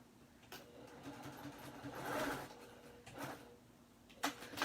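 A sewing machine stitching quilt binding runs in short bursts, a faint whirring hum rising and falling with brief clicks and pauses between runs, close by with no talk.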